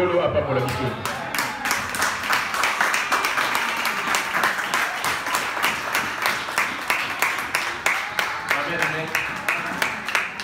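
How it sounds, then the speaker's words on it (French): A church congregation at a sermon applauds in rhythmic unison, steady claps repeating at an even beat for several seconds, with voices and a lively crowd sound underneath. "Applaudissons pour Jésus"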